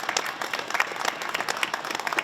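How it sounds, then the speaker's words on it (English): An audience claps for the Chamber of Commerce at a winter festival event, a steady patter of many hands applauding throughout without a break. "So one more time, a round of applause for the Chamber of Commerce."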